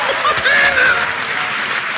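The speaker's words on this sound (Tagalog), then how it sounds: "Palakpakan na naman!" A crowd claps in steady applause, heard close and fairly loud, with a voice briefly sounding over the clapping.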